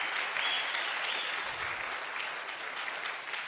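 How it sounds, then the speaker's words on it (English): An audience at a youth empowerment week event applauds a speaker with a steady, even wash of clapping, heard from a moderate distance and at a soft level. "can we give her a round of applause?"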